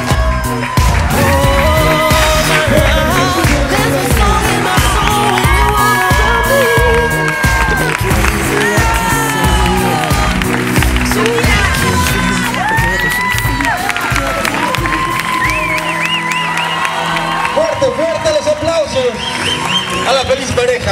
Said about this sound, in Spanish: Y los invito, por favor, a que se pongan de pie y reciban con un fuerte aplauso